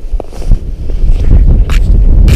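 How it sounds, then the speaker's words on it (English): Heavy wind on a frozen lake in northern Wisconsin buffets the microphone in loud, rumbling gusts that continue throughout, with no talking. "Hopefully you guys can hear me with this wind."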